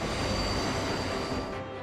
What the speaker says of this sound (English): a whole new fleet of high-speed electric trains